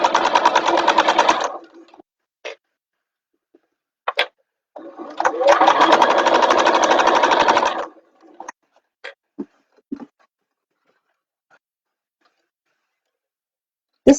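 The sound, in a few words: sewing machine basting bag pieces in place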